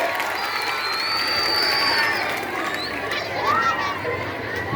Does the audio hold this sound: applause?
yes